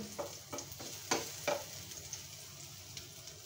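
Chopped onions frying in hot cooking oil give a soft, steady sizzle, with several short stirring scrapes near the start and faint crackle throughout.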